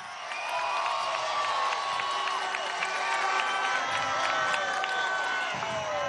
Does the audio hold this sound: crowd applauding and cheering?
yes